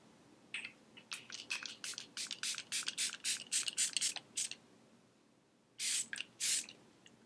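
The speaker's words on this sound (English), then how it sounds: "Close eyes, hold 20 centimeters from face and spray." Milani setting spray mists onto a face in a quick series of about a dozen short, soft hissing pumps, followed after a pause by two longer, stronger sprays, close and fairly quiet.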